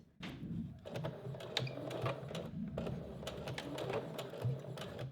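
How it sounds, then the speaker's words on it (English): A domestic sewing machine runs a steady straight stitch along the edge of a bra back closure, its needle pattering in continuous rapid bursts with brief pauses, close and clear with no talking. "I'm just going to sew with a straight stitch"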